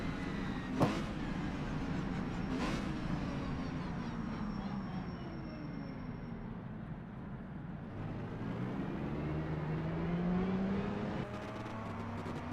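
Race cars lapping a circuit during a two-hour endurance event at Longford, a steady engine drone with rising and falling pitch as cars pass at a distance, continuous and fairly loud.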